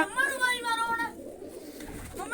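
Pigeons coo in a home loft in a series of soft, close, rhythmic calls, with faint background noise and no talk.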